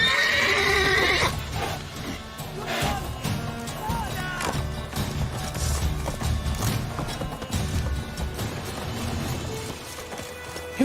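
A horse in The Witcher 3 gives a loud whinny at the start, followed by trotting hoofbeats and clip-clop under in-game music and ambience.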